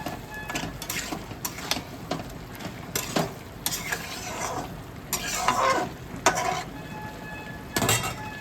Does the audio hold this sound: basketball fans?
no